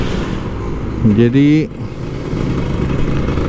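A Kawasaki Ninja RR 150 two-stroke motorcycle engine runs close by and briefly revs up in a rising whine before dropping back, with someone talking over it.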